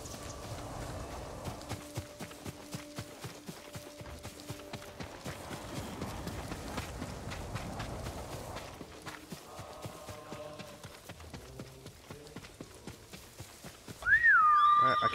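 A horse's hooves clip-clop in rapid, steady rhythm as it runs in the video game Ghost of Tsushima, fairly quiet and continuous, with faint game music and effects underneath.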